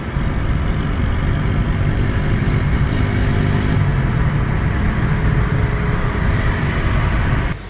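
Car ride through Kenya heard from inside the vehicle, a loud, steady engine and road rumble lasting throughout with no voices.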